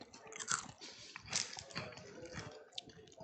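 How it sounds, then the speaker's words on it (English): Someone bites and chews a Japanese strawberry cheesecake Kit Kat, soft crunches and wet chewing close to the mic, faint and unvoiced. "You look very serious for eating a delicious Kit Kat."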